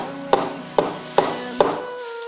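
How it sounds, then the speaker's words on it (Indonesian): Rubber mallet tapping an Epson PLQ-20 printer print head level, four evenly spaced light knocks, close and crisp, with a faint hum underneath. "Jadi kita tekan di sininya, dipukulin dikit-dikit, perlahan biar rata."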